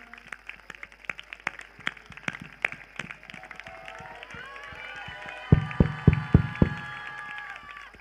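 A congregation claps hands in praise at a prayer service: scattered claps all the way through, then a few loud, close, slow claps near the end, with a voice talking over them.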